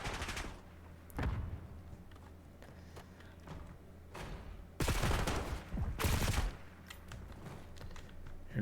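Gunfire from a multiplayer shooter game cracks out in sharp bursts over a low background hum, with a few isolated shots and two loud, sustained volleys near the middle.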